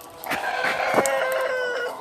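Chickens and a rooster on a chicken farm cluck and crow loudly and close by, a continuous dense chorus of overlapping calls with no one speaking.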